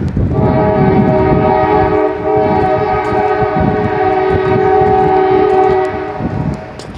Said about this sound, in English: Train's going by down yonder.